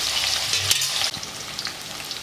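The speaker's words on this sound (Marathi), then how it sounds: "त्याच तेलात हे पनीर तळून घेणार आहोत" Cubes of paneer frying in the same hot oil left from earlier cooking, a steady close crackling sizzle with a sharper burst of spatter partway through, heard alone without voices.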